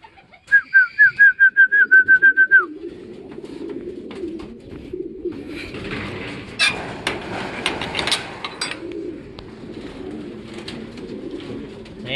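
Racing pigeon hens coming home to the loft after a fun race give a quick run of about ten close, rhythmic coos, followed by softer rustling and fluttering in the loft.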